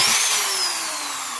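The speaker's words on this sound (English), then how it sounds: "I'll just drive a couple of fasteners here." An adjustable torque screwdriver with an aggressive clutch drives a fastener, giving a brief high-pitched motor whine that slowly falls in pitch over about a second and a half.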